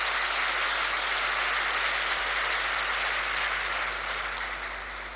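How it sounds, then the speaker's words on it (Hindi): An audience claps loudly and continuously, a dense, even wash of applause that thins slightly toward the end. "जोर से ताली बजा के धन्यवाद करेंगे।"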